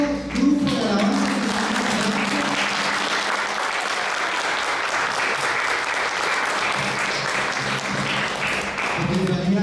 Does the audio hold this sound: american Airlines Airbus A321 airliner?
no